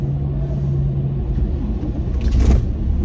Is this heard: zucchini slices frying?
no